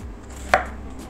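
Knife slicing through a raw turnip on a board makes a single crisp chop, close and sharp against a quiet background, with no speech.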